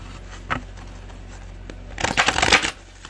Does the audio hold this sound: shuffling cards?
yes